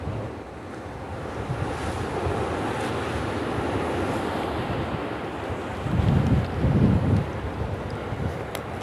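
Ocean waves roll in at Jamestown, Rhode Island, as a continuous wash of surf mixed with gusting wind buffeting the microphone, swelling louder briefly near the end.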